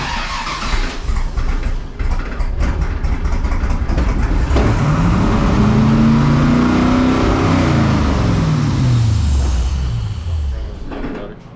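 A 1984 Toyota pickup with a newly installed fuel cell cranks and fires up close by. The loud engine then revs, its pitch swelling and falling away before it settles.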